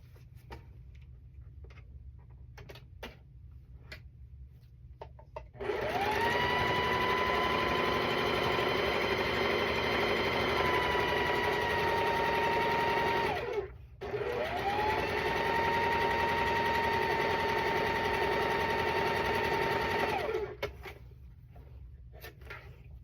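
A sewing machine runs a quarter-inch seam on a Halloween cat quilt block in two long, steady whirring runs separated by a brief pause, with quiet handling clicks before and after.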